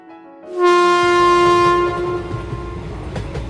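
A train sound effect for a narrated story: a loud, sustained horn blast rings out over rolling wheel rumble, then fades into the steady rattle and clatter of the moving train.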